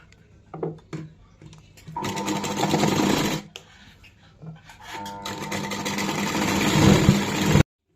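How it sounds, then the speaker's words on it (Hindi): A sewing machine stitches the crotch seam of a jumpsuit in two loud, close bursts of rapid mechanical whirring separated by a short pause, with quiet handling noises in between. "ये है क्रोच एरिया, हम इसकी स्टिचिंग करेंगे।"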